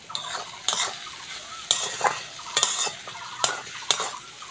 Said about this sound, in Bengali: এবার এইখানে ডিমটা একটু ভালো করে ভাজতে হবে